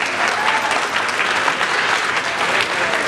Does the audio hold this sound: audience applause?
yes